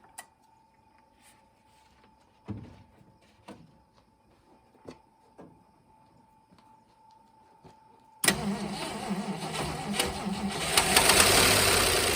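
An all-original 1964 Mercury Comet Cyclone with a 289 V8 and four-speed, found in a garage, gives a few short cranking bursts, then the engine catches and runs rough and loud to the end.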